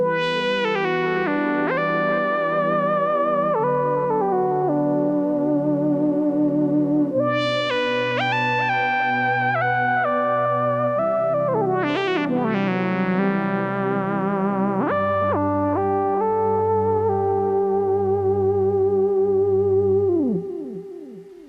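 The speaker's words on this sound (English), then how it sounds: "is a lead sound. But it is a little bit different from the other leads." A Nord Stage 4 synthesizer lead plays a sustained melody with gliding pitch bends and echo, over a pulsing low bass line, loud and without any voices.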